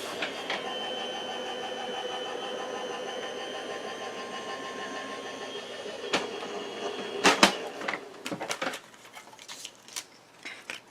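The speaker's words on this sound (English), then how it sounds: "They tend to be just a little bit sticky, and I'm going to run it through here." A small craft applicator machine feeds rub-on transfers on card through its rollers with a steady mechanical whir, followed by several sharp clacks and handling knocks.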